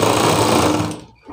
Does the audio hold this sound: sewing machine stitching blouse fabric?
yes